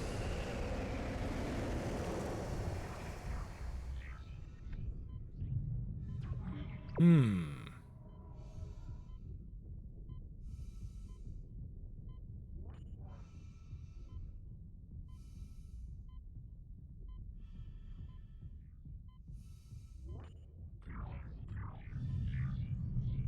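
Rushing air in the Dead Space (2023) remake as the character enters vacuum. A broad whoosh thins out over several seconds, a sharp swept tone follows, then a muffled low rumble holds with faint scattered sounds.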